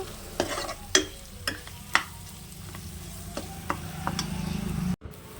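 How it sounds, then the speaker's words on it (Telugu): Tomato and turmeric frying in a pan, a soft steady sizzle punctuated by several sharp spoon taps and scrapes against the pan, building slightly before a brief stop near the end. "వీటిలన్నిటిని కూడా మంచిగా ఫ్రై అవ్వనివ్వాలి"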